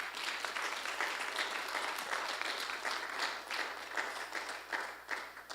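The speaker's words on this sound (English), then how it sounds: "let's please give them a round of applause" Audience applause after a DA's office tool presentation at a live-streamed event, steady dense clapping from a sizeable crowd sustained throughout, moderately loud and slightly distant with no talk over it.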